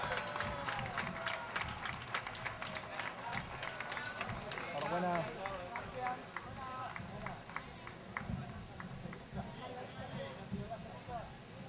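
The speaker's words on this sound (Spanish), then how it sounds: "¡Fuerte aplauso!" Crowd at a half marathon awards ceremony claps for the overall women's winner, scattered applause and some cheering mixed with voices and an announcer talking over it, moderately distant.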